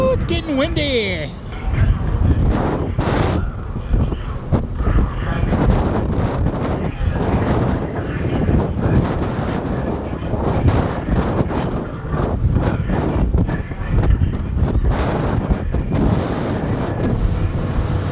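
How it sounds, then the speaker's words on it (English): Strong wind buffets the microphone aboard the Galveston-Port Bolivar ferry, a loud continuous rumbling roar with gusty surges throughout, heard under a person talking. "Can you hear me over the wind?"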